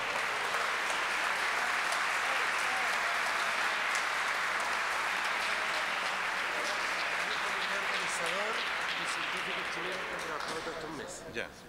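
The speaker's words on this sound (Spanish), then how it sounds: "También un aplauso grande para los jóvenes." Continuous audience applause for young students at a scientific seminar tribute, broad and even throughout, tapering off only in the final second.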